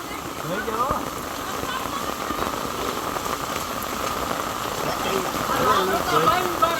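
Heavy monsoon rain falls and drums densely on surfaces, including a motorcycle, as a steady, close hiss of rapid patter with faint voices murmuring underneath.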